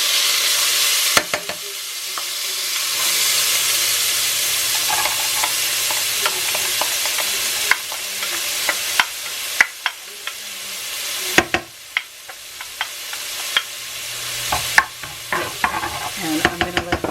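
Chopped onion sizzles in two pans while a utensil stirs and taps, leaving a bright hiss that fades over time and is broken by sharp clicks and scrapes. The sound is close and carries no speech.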